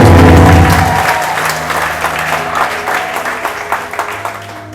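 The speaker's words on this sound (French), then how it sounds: "Est-ce que quelqu'un peut acclamer la Vierge?" Congregation applause acclaiming the Virgin Mary during a church exhortation, loud and dense at first, then settling into a steadier clapping crowd that continues through to the end.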